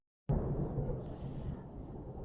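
Thunder rumbling during a lightning storm: after a brief silence a sudden loud crack opens into a sustained deep, heavy roll that lasts to the end, with no talking.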